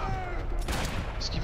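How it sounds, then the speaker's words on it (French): Gunfire from the video game Max Payne 3: a short burst of sharp shots and impacts amid dense action noise, loud throughout the brief moment. "Je tape dans l'arme."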